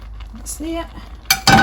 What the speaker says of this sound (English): So I'm just going to stir this through